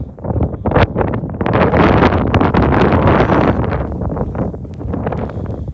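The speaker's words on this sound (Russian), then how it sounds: "Поднялся ветер, идет поземка." Strong wind roars across a winter mountain pass in the Altai, blowing drifting snow, with steady loud gusting and buffeting against the microphone and no voices.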